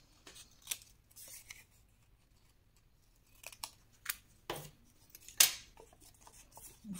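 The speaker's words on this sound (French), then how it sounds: "vous allez couper ici" Scissors snip the corners off paper for a small scrapbooking album, giving a handful of quiet, separate cuts spread over several seconds with near-silence between them.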